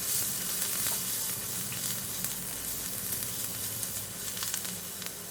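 Onions and chillies sizzling steadily in a hot pan, with turmeric and chilli powder going in and a faint stirring scrape now and then, loud, close and continuous without any talking.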